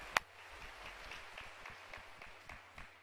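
A church congregation at a fasting revival service claps together in praise, a faint, steady patter of many hands that holds evenly throughout.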